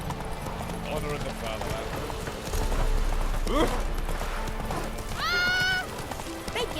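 Roach the horse gallops in The Witcher 3, hooves drumming in a steady clip-clop under game music, with a short whinny partway through and someone speaking briefly over it.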